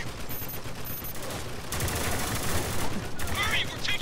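Sustained gunfire from the video game Spec Ops: The Line, dense bursts of shots and rattling automatic fire under voices, growing louder partway through.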